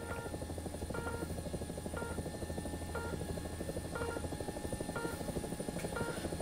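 Tiger UHT attack helicopter in the War Thunder video game, a steady loud rotor and engine drone with a rhythmic thumping pulse about once a second, running continuously with no talking.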